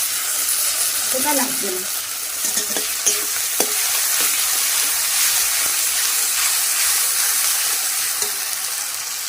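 A spice paste of ground dried red chilli, green chilli and ginger sizzles loudly in a pan with bursts of crackle and stirring scrapes, while a voice speaks briefly near the start.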